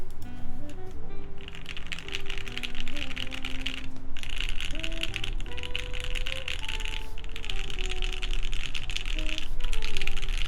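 Clattery keystrokes on a mechanical keyboard with Tealios switches, typed in steady bursts with brief pauses, under a low humming background.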